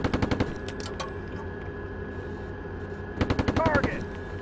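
A tank's coaxial machine gun fires in short automatic bursts in the Steel Beasts Pro combat simulator, one quick volley at the start and another near the end, with a steady engine hum and faint radio chatter between them.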